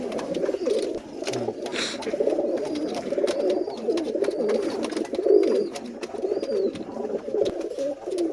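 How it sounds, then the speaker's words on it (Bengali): A pair of Teddy breed pigeons cooing at close range in a loft, with repeated soft, throaty rolling coos in a steady rhythm and a few faint rustles and taps in the background. "এই দেখছেন আর এক পেয়ার টেডি কবুতর"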